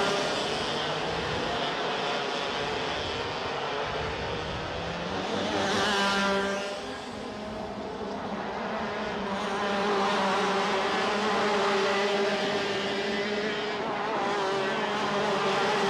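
Racing karts at the WSK Champions Cup stream past in a continuous, buzzing high-revving drone, several engines overlapping with one swelling pass midway, steady and fairly distant.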